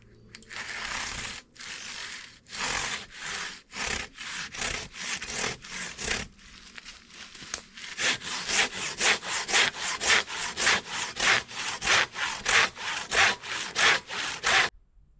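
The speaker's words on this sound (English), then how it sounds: "So open up my saw, undo it a little bit, just open her up, just get to obviously cutting." A hand saw cuts through timber for a log cabin wall, loud close rasping strokes in a steady back-and-forth rhythm with a few brief pauses, then a quicker, even run of strokes.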